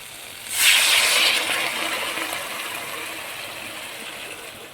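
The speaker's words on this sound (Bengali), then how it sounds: "অল্প একটু জল দিয়ে দিলাম" Water splashes into a pot of okra cooking on the stove, a sudden loud rushing pour that settles into a steady hiss and sizzle, with no voices.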